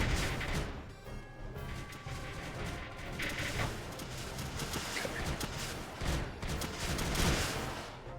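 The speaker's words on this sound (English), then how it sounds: "Lots of shots, guys." Gunfire from the strategy video game Creeper World 2 rattles in dense, overlapping bursts, with rapid cracks and booms piling up at a fairly even loudness for the whole stretch. No voices are heard.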